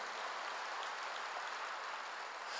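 A church congregation applauding during a sermon, a steady wash of many hands clapping at a distance, fairly faint and unbroken with no speech over it.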